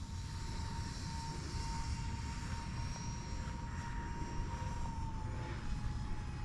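An E-flite UMX B-2 Stealth RC plane powering back up in flight, its small electric motor giving a steady, thin whine under a constant outdoor hiss, with no talking.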